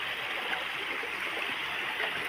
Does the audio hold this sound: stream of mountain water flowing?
yes